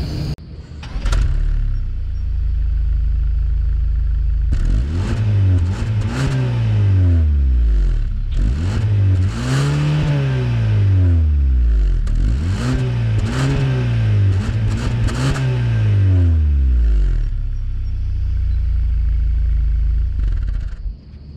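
A 2022 Hyundai Sonata N Line's 2.5-liter turbocharged four-cylinder is revved hard several times in a row, each blip climbing and falling back, loud and close, starting and ending at a steady idle with no talking.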